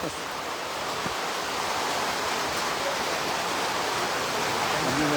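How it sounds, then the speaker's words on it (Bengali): Rain falling outdoors in Tongi, Gazipur, Bangladesh, a steady, even wash of hiss that stays fairly loud and unbroken throughout, with no clear talk over it. "বৃষ্টিটা কম"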